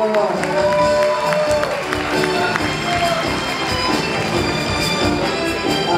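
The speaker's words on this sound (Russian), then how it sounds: "Естественно, давайте похлопаем еще." Audience applause at a university gala concert, a steady, dense clapping of a large crowd throughout, with a voice talking over it.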